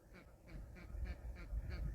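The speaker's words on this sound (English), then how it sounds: "ducks" Ducks on a rural property quack in a quick repeated series of about six calls, moderately close and fairly quiet over a low background rumble.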